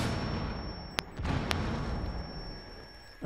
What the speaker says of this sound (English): someone's shooting that garage